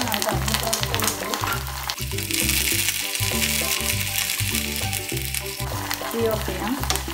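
Mustard seeds, fenugreek, green chillies and curry leaves sizzle and crackle in hot coconut oil for an Onam sadhya tempering. The frying is loud, close and steady, with continuous popping from start to finish.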